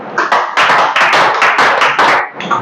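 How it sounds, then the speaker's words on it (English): Schoolchildren in a classroom perform a power clap, a loud, close series of rapid, rhythmic group claps in quick bursts lasting a couple of seconds. "Can you give me a power clap?"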